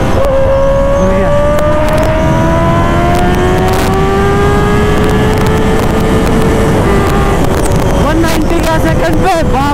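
A Kawasaki ZX-10R with an SC Project exhaust accelerates hard in second gear on an open road, its engine note climbing steadily in pitch for several seconds. The sound is loud and close, with wind buffeting throughout.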